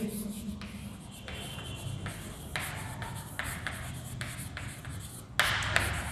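A pen or marker scratching out a chemistry sentence on a board during a lecture, a series of short, close strokes and taps in an uneven rhythm with no talk.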